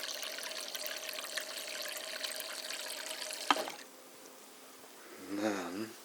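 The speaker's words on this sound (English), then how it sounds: "fill up with the rest of the water." Water pouring into a glass to top up a homemade carbonated Gatorade Zero Sugar Grape Blackberry drink: a steady, close splashing stream for about three and a half seconds that cuts off sharply, followed by a brief voice.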